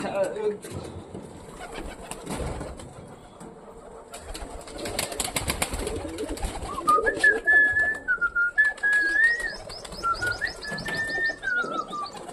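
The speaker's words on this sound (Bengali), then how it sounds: "আয় আয় আয় অনেকগুলো পায়রা" Pigeons coo and birds chirp nearby while a person calls out repeatedly, with wingbeats and outdoor bustle underneath.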